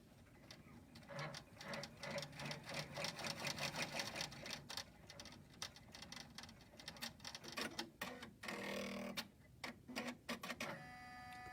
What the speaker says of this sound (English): We're going to run that stitch, and it's going to make that first pleat for us.